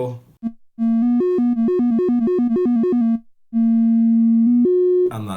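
A mellow, hollow triangle wave tone from a Behringer Neutron synthesizer plays a quick bouncing run of notes, then holds a long steady note and steps up once before it stops.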